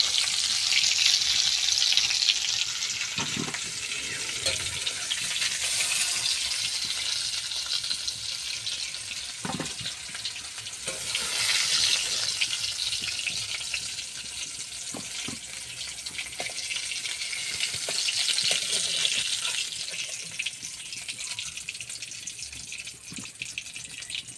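Potatoes fry in hot oil in a home kitchen for a vegetable fried rice, a steady loud bubbling sizzle that swells and eases in waves, broken by occasional clinks of a utensil, with no voices.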